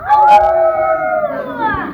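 Children at a school Christmas program imitate howling wolves, a loud chorus of drawn-out, wavering howls sliding down in pitch together and lasting about two seconds.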